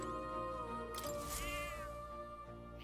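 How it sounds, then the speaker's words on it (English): A cat meows inside the video game Expedition 33, a brief rising call heard over a steady musical game backdrop with sustained tones throughout. "Don't usually see this kind of cat in the city, huh?"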